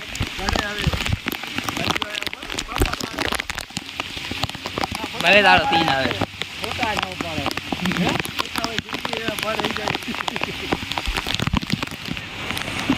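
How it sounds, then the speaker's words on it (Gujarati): Rain pours beside Lakhota Lake in Jamnagar, a steady hiss of drops pattering on surfaces across the whole stretch, while people talk over it. "વરસાદ પડી ગયો."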